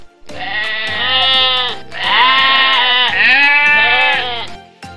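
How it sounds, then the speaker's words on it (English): A goat bleats loudly and close in three long wavering calls, each a drawn-out, strongly tonal cry separated by short pauses. "Goat. This is goat."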